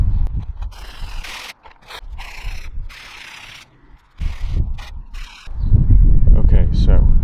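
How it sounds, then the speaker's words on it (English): A brush scrubs a Porsche Boxster's fabric convertible roof, with loud, close bristly scraping in rhythmic bursts that break off for short pauses and then come back heavier and more forceful. "It's now time to scrub."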